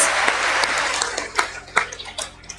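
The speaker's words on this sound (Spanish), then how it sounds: "Que se escuchen los aplausos." Applause from an audience at a Mexican education talk, dense clapping that thins into a few scattered, separate claps over a couple of seconds.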